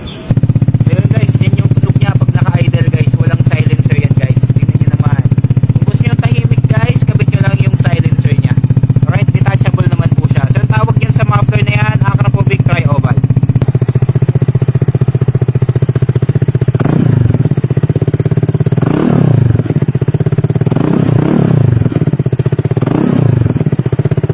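A Vespa Primavera scooter engine without a silencer idles loudly and steadily, and people talk over it. Near the end it revs sharply several times.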